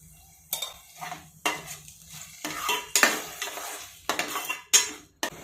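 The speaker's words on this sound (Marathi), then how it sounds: "टोमॅटोची प्युरी आपण तेल सुटेपर्यंत चांगली परतून घेऊयात" Tomato puree cooking down in oil for dhaba-style Punjabi rajma, with separate bursts of spoon-on-pan stirring and scraping against a faint hiss, spaced by quiet gaps.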